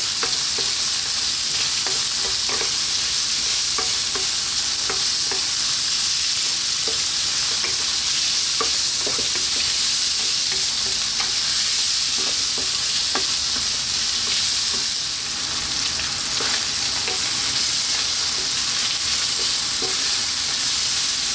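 Chopped onion sizzles steadily in a hot frying pan while being stirred, with a continuous bright crackle and occasional scraping clicks of the utensil against the pan, close and alone with no voices.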